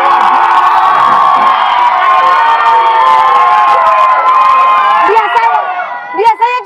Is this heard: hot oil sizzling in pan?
no